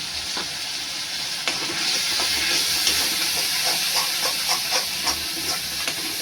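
Mushroom masala with Kashmiri red chilli roasts in hot oil, giving a close, continuous sizzle and hiss with small crackles and occasional stirring scrapes across the pan.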